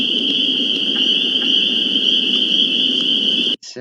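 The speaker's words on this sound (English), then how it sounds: "I like the cricket sound, crickets, this one." Crickets chirping from a computer sound effect library, a steady high, dense trill over a constant background, loud and close, cutting off abruptly near the end.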